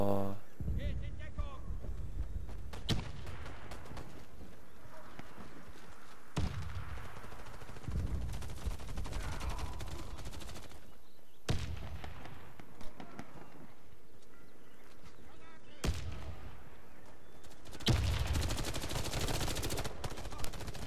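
Bursts of rapid gunfire crackle repeatedly in the video game Warface over a steady noisy backdrop, with sharp isolated shots between the volleys, all fairly quiet overall.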